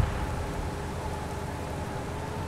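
Steady in-game rain from Arma 3 Antistasi hisses evenly throughout, a dense, unbroken wash of falling water with no voices over it.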